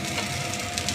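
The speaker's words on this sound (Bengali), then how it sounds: "এটা নিরামিষ মুড়ি মাখছি, পেঁয়াজ ছাড়া মুড়িটা মাখবো আমি" Puffed rice for vegetarian jhalmuri, made without onion, tossed and mixed by hand, giving a short, steady, close crisp rustling and crunching with no pauses.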